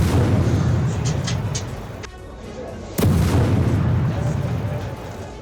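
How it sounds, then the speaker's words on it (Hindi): Israeli strikes hit near the Al-Shifa complex in Gaza, heard as two sharp, heavy blasts about a second apart, the second followed by a long rumbling roar amid constant background noise. "लगातार हमलों की आवाजें काफी देर तक सुनाई देती रही।"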